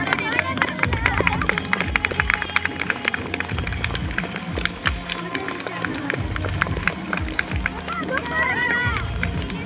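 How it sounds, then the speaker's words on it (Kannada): Schoolboys' Independence Day dance performance, with crowd clapping and cheering mixed into busy hubbub and rhythmic thumping, a dense steady bed of noise throughout. "ಚಪ್ಪಾಳೆ"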